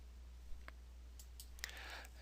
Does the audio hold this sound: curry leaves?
no